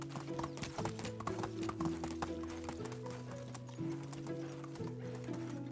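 Donkey hooves clip-clop steadily on the ground in the medieval farming game Medieval Dynasty, quiet and continuous over a backdrop of layered sustained musical tones.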